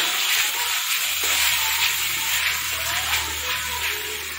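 Sweet and sour crab sauce with chili sauce being stirred in a pan, a steady close sizzle and bubbling with soft scraping as the spoon moves, continuous and fairly loud, no voices.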